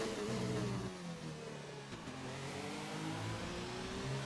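Race car engines in the F1 2019 video game at a US track whine and rev continuously, pitch rising and falling as cars accelerate, moderately quiet with no speech.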